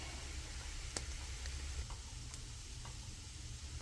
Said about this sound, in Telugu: చిల్లీ పౌడర్, ధనియా, జీలకర్ర పొడి ఇలా వేసి మొత్తం ఫ్రై చేసుకోవాలి.